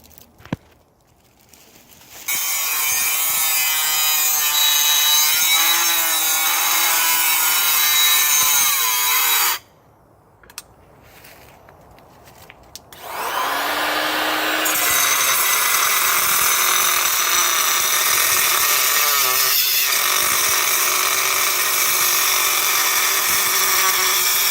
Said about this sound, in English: Thank you so much, Brandon, for shaving that down for me.